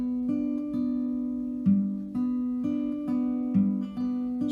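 Acoustic guitar fingerpicking a repeating pattern for Wild Mountain Thyme, the thumb's bass note shifting between strings; steady, evenly spaced plucked notes ring close and clear, alone with no voices.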